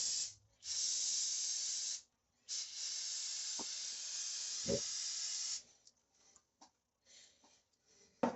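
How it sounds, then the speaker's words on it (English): Long bursts of carburetor cleaner spray hiss close up on a 1992 Kawasaki ZX-6 motorcycle carburetor, two sustained blasts separated by a short pause, followed by scattered clicks and shorter sprays. "spray all these down"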